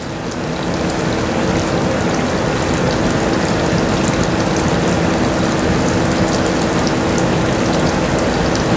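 Candy syrup for divinity boiling hard in a pan, a loud steady dense bubbling and crackling hiss that holds unchanged throughout, close up, with no voices.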